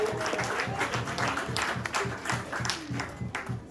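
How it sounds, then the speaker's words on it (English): Guests at a 40th birthday celebration applaud a dance group, a moderate spread of clapping heard over a steady rhythmic music beat. "So please give them a round of applause."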